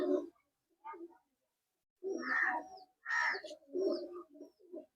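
Tumbler pigeons of Madrasi, Teddy and Murshidabadi breeds coo in several separate bursts, close by, with short pauses between calls and no talk over them.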